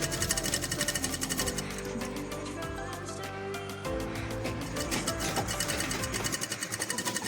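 A sewing machine stitches along a pillowcase edge in a fast, even mechanical rattle, pausing briefly midway before running on; close and loud, with no talking.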